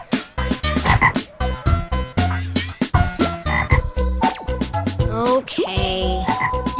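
Frog croaking loudly and repeatedly in a steady, close rhythm, with overlapping croaks and a buzzing insect-like tone near the end.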